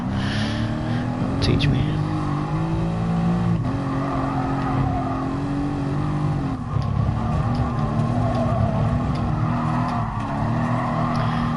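A safety car in an F1 video game at Catalunya runs with a steady, loud engine drone that holds and shifts pitch as it brakes and skids, with tyre noise mixed in and a voice speaking over it.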